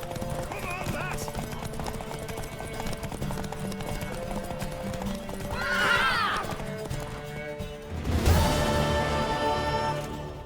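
Horse hooves clip-clop at a gallop during a horse race in The Witcher 3, joined by a loud whinny midway and a sharp burst near the end, with people talking over the rhythmic pounding.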